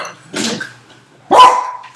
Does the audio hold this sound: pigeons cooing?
no